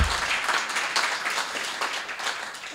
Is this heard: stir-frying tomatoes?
no